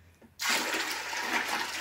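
Water poured from one container into another at an outdoor homestead, an abrupt loud rush of splashing liquid that starts suddenly and runs steadily without pause.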